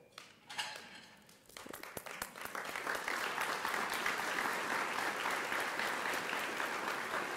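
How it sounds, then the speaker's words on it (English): A ceremony audience applauds scholarship recipients and their families at a state patrol award event, starting with a few scattered claps and swelling into full, sustained clapping from a large crowd. "Let's applaud our scholarship recipients and their families."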